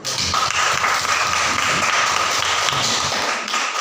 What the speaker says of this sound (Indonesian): Kita tepuk tangan dulu